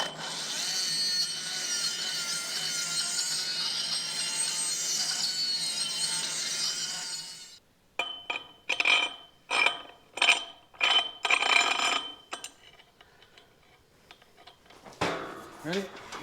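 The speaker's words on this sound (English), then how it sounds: "What I'm using is a carbide burr. These things work really good." A carbide burr on a power grinder cuts into steel while the barn is modified for cattle handling, a loud steady high-pitched whine for about seven seconds before it cuts off, followed by sparse knocks and people talking.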